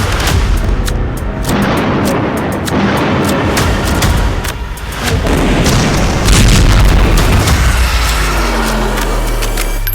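Rapid, repeated booms from explosive blasts reportedly linked to nuclear bomb work in Iran, a dense and continuous barrage of loud detonations with sharp cracks layered over deep rumbling throughout.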